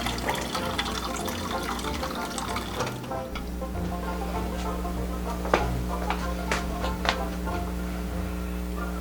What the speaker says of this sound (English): as we drain the fat off the top of the drippings